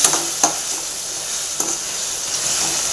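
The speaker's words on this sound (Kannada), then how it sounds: "ದೊಡ್ಡ ಸೈಜಿಂದು ಒಂದು ಟೊಮೊಟೊ ಸೇರಿಸ್ಕೊಂಡಿದ್ದೀನಿ ಇದಕ್ಕೆ ಹುಳಿ ಹಾಕೋ ಅವಶ್ಯಕತೆ ಇರೋಲ್ಲ ಥರ ಚೆನ್ನಾಗಿ ಫ್ರೈ ಆಗಬೇಕು" A large tomato fries in a pan with a steady, fairly loud hiss, broken by a few sharp clicks of a spoon stirring against the pan; no one speaks.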